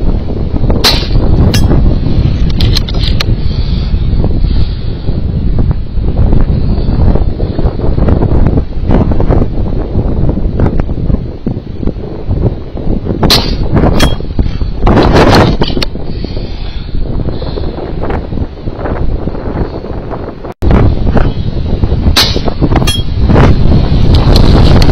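A strong gust of wind at about 65 miles per hour buffets the microphone at an outdoor airgun shooting range, a loud continuous roaring rumble with harsh bursts and short dropouts and no voices.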